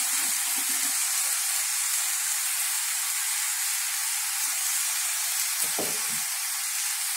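Tomatoes and turmeric sizzle in a hot pan for an egg kurma. A steady, bright frying hiss runs the whole time, with faint low knocks from the pan now and then.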